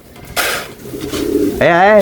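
Short bursts of pigeon cooing close by during a racing pigeon event, a couple of throaty warbling calls in quick succession, with a voice mixed in.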